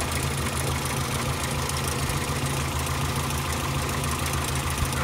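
Morris Minor engine idling on electronic ignition with no points or distributor, a steady, even running hum with slight knocking, close and continuous.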